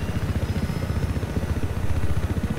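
Helicopter in the Battlefield 4 video game on the Siege of Shanghai map, a steady loud low rotor chop with rapid rhythmic thumping and engine rumble throughout, with no talking.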